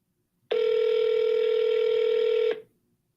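A single steady telephone tone sounds for about two seconds on a call that goes unanswered, loud and clean, starting and stopping abruptly amid near silence.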